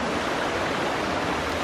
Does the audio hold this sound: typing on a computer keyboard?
no